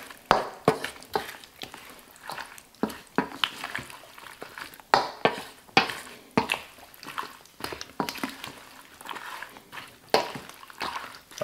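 Tomato, bean and bread salad dressed with olive oil being tossed in a bowl, a busy run of close, wet squelches and soft clatters in an irregular rhythm, no talking.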